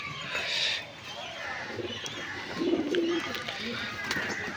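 A green male pigeon with yellow eyes coos in low, rolling bursts, close by amid steady background noise, with a voice speaking faintly underneath.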